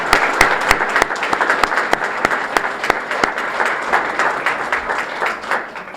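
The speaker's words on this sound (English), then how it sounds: "How about one big round of applause for all 5 of our inductees tonight." An audience at a hall of fame induction ceremony gives a round of applause for five inductees, with steady clapping and several sharp, close claps standing out.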